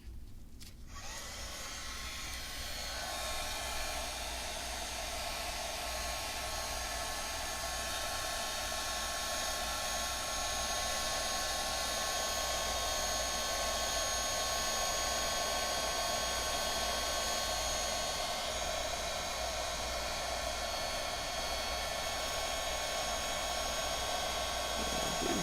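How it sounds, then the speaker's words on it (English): Heat gun blowing hot air over a resin dragon mold, a loud, steady broadband roar with a high whine that holds continuously for the whole stretch with no talking. "but we're going to hit it with the heat gun."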